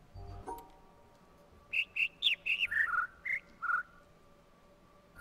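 A sequence of about eight short whistled bird chirps at varying pitches from a jungle sound puzzle in the video game The Witness, evenly spaced and clear over a quiet background.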